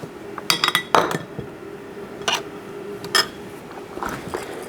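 Pancake muffin batter stirred in a bowl, a utensil clinking and tapping against the sides in short, irregular bursts of bright knocks separated by quieter scraping, close by.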